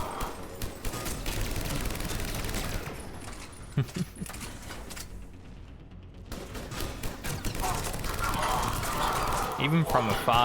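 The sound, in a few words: assault rifle gunfire in Mass Effect 3 video game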